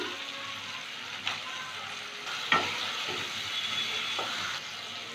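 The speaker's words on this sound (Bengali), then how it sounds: "এবার ভালো করে কষিয়ে নেব তিন চার মিনিট" Pointed gourd masala sizzling and frying in a pan, with a steady close hiss and a few clinks of a spoon stirring against the pan.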